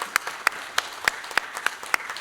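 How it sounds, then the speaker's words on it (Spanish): A small church congregation at Sunday Mass applauds their priest, a sparse, steady clapping with distinct individual claps at a regular rhythm. "me gustaría darle un aplauso al Padre por sus 11 años de servicio al Señor"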